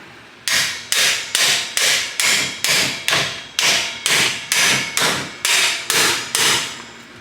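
Loud, evenly spaced metal hammer blows, about fourteen sharp strikes in a steady rhythm, drive a bolt out while installing a front tow hook on a Ram 1500, heard up close with no talking.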